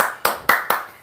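A few people clap at a party balloon-popping game, giving three short bursts of claps spaced about a quarter second apart, close and fairly loud, with no talk over them.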